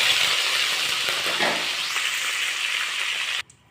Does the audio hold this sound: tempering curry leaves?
yes